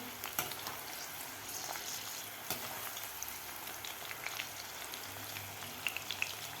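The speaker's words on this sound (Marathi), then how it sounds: "मी लसूण तर चण्याबरोबर व्यवस्थित आपल्याला तळून घ्यायचं आहे" Chickpeas, green chillies and unpeeled garlic cloves frying in oil, a soft continuous crackle with scattered pops and an occasional tap, quiet and steady, no voices.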